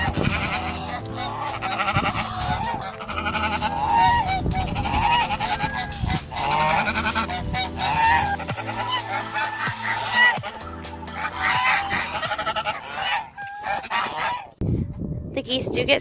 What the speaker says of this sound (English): A brown Chinese goose and two white Chinese geese.